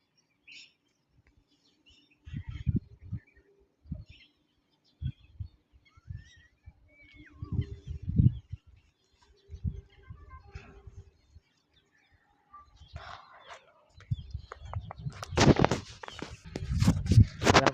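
Birds, including parrots, chirp faintly and sporadically outdoors on a rooftop, scattered among soft thumps and footsteps, with louder broadband rustling noise toward the end.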